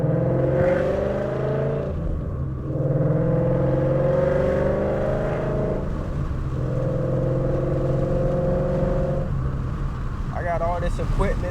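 A loud Mustang GT with headers drones steadily from inside the cabin while driving, its engine pitch rising and falling through revs across the clip.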